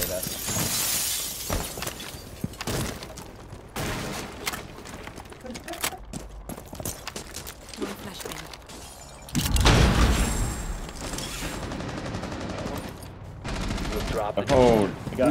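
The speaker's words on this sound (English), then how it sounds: "I shot him in the chest" Rapid bursts of gunfire in a tactical shooter match, with sharp repeated shots and shattering impacts across the span, close and loud at times, while players talk over the action.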